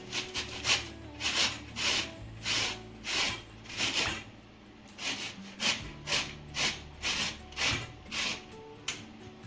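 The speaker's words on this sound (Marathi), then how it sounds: "आता अशी एक किसणी घ्या आणि मी ह्या साईज प्रमाणे आता किसून घेणार आहे कैरी" Raw mango being grated on a hand grater, a steady series of close rasping scrapes in an even back-and-forth rhythm, about a dozen strokes with brief pauses.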